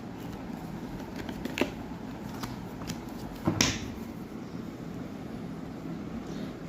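Tarot cards handled and dropped onto a surface, a faint soft rustle with a couple of brief papery slaps over low room noise.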